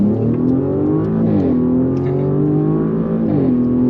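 A 2023 Audi S7 engine accelerates in dynamic mode, a steady, throaty drone heard from inside the car that climbs in pitch with a couple of brief dips at gear shifts.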